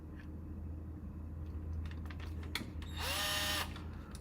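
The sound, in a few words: power drill drilling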